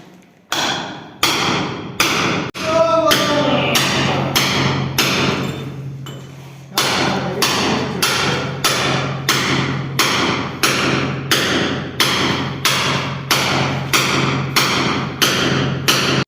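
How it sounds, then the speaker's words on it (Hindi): Steady, rhythmic heavy blows from a tool digging a pit in the floor of an indoor room, close and loud with hard thuds about every half second and a low hum underneath. "तो गाइस देखो यहाँ पर खड्डा खोदा जा रहा है।"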